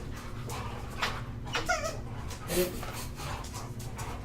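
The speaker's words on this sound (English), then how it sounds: "We got a bunch of big dogs here" Several big dogs indoors, one an old dog with a torn leg tendon, give short whimpers and whines in brief bursts against a steady background hum, with light panting between.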